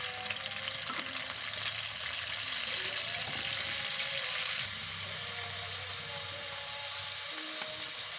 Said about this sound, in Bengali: পরিমাণ মতো তেল দিলাম, এর মধ্যে এলাচি, দারুচিনি আর দিয়ে দিলাম পেঁয়াজ।